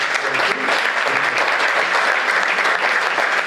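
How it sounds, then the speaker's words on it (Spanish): Audience applauding at a talk in Huerta de Rey, a steady dense clatter of many hands clapping throughout, fairly close and even. "¿No le damos un aplauso a nuestros abuelos?"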